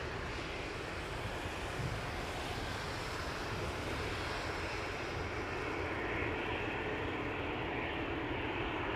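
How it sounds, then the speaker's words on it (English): An airliner at Toronto Pearson Airport on a wet runway, heard as a steady, broad engine roar that stays loud and even throughout, with no talk. "A320 lining up next."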